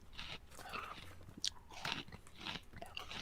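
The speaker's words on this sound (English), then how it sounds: "I do have pretzels, so if you do hear crunching, that's what it is" Pretzels and cheese crackers are crunched up close in quick, irregular bites, crisp snaps and chewing noises repeating throughout at a quiet level with no talk.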